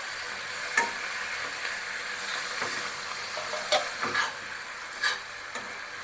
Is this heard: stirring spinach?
yes